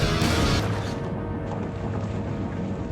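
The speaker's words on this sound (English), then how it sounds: "Mavis and Percy heard the crash from inside the mine shaft" A Plarail toy train crashes inside a mine shaft: a loud, booming impact with a rattling burst up front, then a low rumble that settles and fades.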